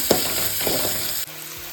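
Steady frying sizzle of onions in hot oil for methi pappu, with a couple of soft scraping stirs; the sizzle drops quieter near the end.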